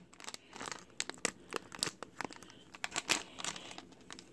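LEGO minifigure plastic bag being torn open by hand, a close series of soft crinkling and tearing rustles in quick irregular bursts.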